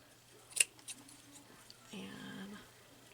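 Scissors snip through paper while cutting curved bag handles for a junk journal, giving a few faint close clicks and a soft sliding cut, with quiet murmured speech nearby.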